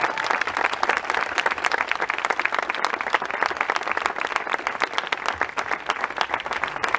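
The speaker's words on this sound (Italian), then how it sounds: "Questo non era un applauso, più forte!" A crowd applauds at the naming ceremony for the via Roma swimming pool, pushed to clap louder; dense, steady, loud clapping fills the whole stretch without letting up.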